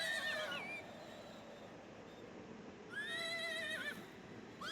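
Horse neighing in the idle clicker game Apple Picker: two whinnies, the first at the very start and the second after a pause, each a shrill wavering cry over a soft steady background.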